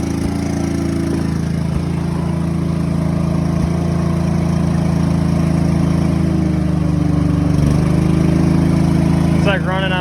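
A John Deere 425 lawn tractor engine runs rough and uneven, a steady loud mechanical drone close by with a faint whine near the end, no talk over it.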